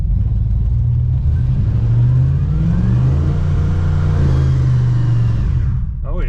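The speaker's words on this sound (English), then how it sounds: "Second gear tire fire." A 1966 Pontiac Grand Prix does a second-gear burnout on cheap highway tires, its V8 roaring loud and close as revs climb and hold, with tire noise underneath, then easing off at the end.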